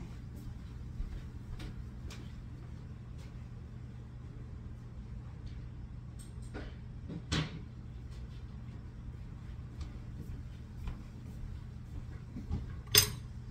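A butter knife and dishes handled in a kitchen while buttering bagels, with sparse faint clinks and taps over a steady low hum, quiet and scattered, no talking.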